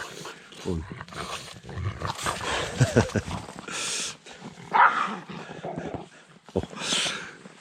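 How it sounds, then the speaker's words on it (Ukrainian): Dogs run and play through snow in a winter forest, with scattered barks, panting and growl-like bursts at varying distance and loudness, and a few human vocal sounds mixed in. "собакам подобається тут бігати по снігу"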